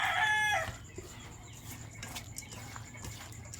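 Pet chickens on a backyard feed, with a rooster giving a sharp, loud crow at the start, then softer scattered clucks and faint background noise.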